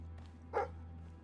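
A single short bark from a dog in the fantasy game Fable III stands out over a low steady hum, fairly faint and not very close.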